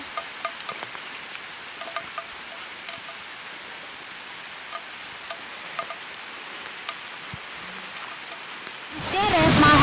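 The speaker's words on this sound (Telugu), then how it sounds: "వాన అయితే స్టార్ట్ అయిపోయింది" Light rain patters steadily at night in the background with occasional drips, followed by a sudden loud burst of noise at the very end.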